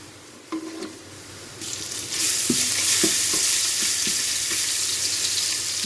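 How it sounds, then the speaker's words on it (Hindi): A loud, steady sizzle of ginger garlic paste frying with browned onions for chicken biryani swells partway through, with a few light clinks of a utensil stirring the pan. "प्याज हमारा ब्राउन हो गया है। अब इसके अंदर अदरक लहसुन का पेस्ट जाएगा।"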